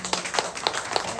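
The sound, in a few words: applause for the children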